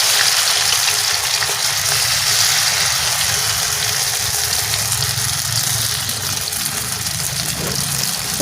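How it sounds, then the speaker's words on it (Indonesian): Shrimp and small cere fish caught at a river fry in hot oil, giving a loud, continuous sizzling hiss with a low background rumble, steady and without talk. "terus digoreng."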